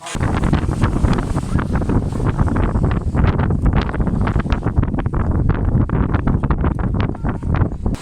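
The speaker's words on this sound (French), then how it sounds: "Je crois il y a un chouïa de vent." Strong wind buffets the microphone outdoors by the water, a loud continuous roar with gusty bursts throughout, no voices.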